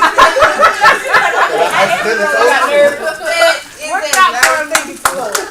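Family group clapping on a pilgrimage outing, scattered hand claps breaking through lively chatter and talking voices, with a burst of sharper claps near the end.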